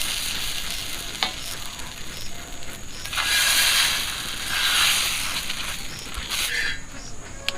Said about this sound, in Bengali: একটা ছোট দেখে ব্যাটার দিয়ে দেখি হচ্ছে কিনা